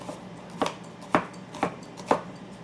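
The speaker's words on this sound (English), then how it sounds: "Give them a good chop." A knife chops onion on a board in four evenly spaced, crisp strikes, close and fairly quiet with no talking.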